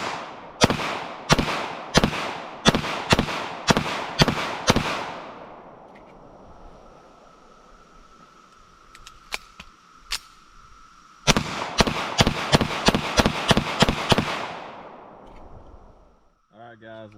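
A Kimber 1911 Next Generation pistol firing 124-grain rounds outdoors, two loud rapid strings of about seven and eight sharp shots separated by a quiet pause with faint handling clicks.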